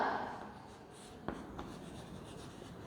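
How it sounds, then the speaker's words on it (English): Pen or pencil writing out a maths answer on paper, a soft close scratching with a few taps, quiet and steady, no talk. "Now we will write down the answer"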